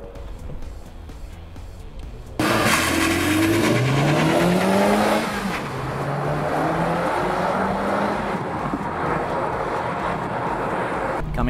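A Honda Civic Type-R on a warm-up lap at NCM Motorsports Park in Bowling Green, Kentucky, its engine climbing through rising revs and gear changes, close and loud, with a voice talking over it.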